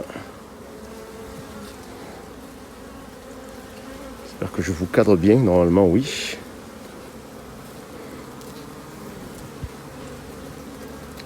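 A loud honeybee buzz swells up close at a small mating hive for a couple of seconds over steady low droning, while a person speaks calmly.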